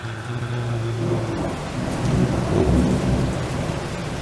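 Heavy rain with thunder in Sarajevo, a loud steady downpour hissing throughout while a deep thunder rumble rolls in and swells toward the end, close and enveloping, no voices.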